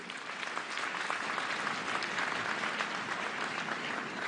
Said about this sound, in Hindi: इनके लिए जोर से तो ताली बजाओ जरा